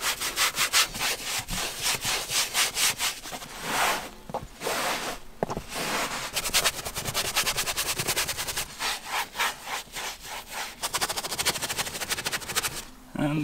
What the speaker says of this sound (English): Now we just rub it in everywhere.